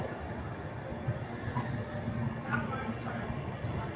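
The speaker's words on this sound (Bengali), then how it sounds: "ঘড়িতে সময় এখন 3:16, আর আমাদের ট্রেন ছেড়ে দিল রামপুরহাট থেকে।" The 13153 Gour Express pulls out of Rampurhat station, heard from inside the coach as a steady rumbling roll with a faint high hiss.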